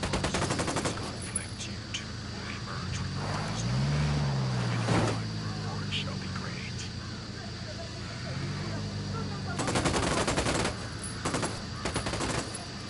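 Gunfire in Ghost Recon Wildlands, with bursts of rapid shots near the start and again around the tenth second, over a steady engine-like hum and game effects.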